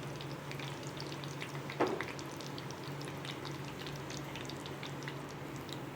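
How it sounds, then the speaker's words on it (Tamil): Raw banana slices fry in hot oil for a Chettinad-style fry, giving a steady, soft sizzle with faint crackles throughout and one brief louder clink partway through. "இதை ரொம்ப ஃப்ரை பண்ணணும்னு தேவையில்ல ஒரு செகண்ட் ஃப்ரை ஆனால் போதும்"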